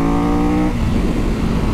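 A Triumph Tiger 1200 GT Pro motorcycle engine revs loud and close, a rising tone that breaks into a rougher roaring growl as it climbs, with no voices over it.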